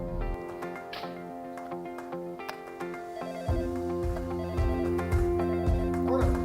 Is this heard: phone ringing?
yes